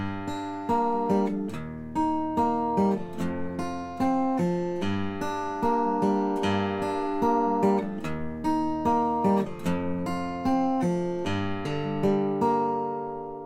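Fingerpicked guitar plays the Peaceful Ending theme from S.T.A.L.K.E.R., plucking the fifth through second strings in flowing arpeggios, clear and close with notes ringing together and no talking.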